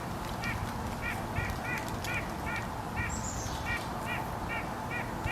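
Repeated goose honks, about a dozen evenly spaced calls, heard at a distance in Minnesota woods over a steady low outdoor rumble.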